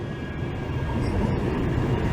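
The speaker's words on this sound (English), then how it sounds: "Here is tram 3020 to Bury Via Market Street." Manchester Metrolink tram 3020 at the East Didsbury stop, a steady close rumble of the tram running with faint high rail hiss, continuous and loud throughout.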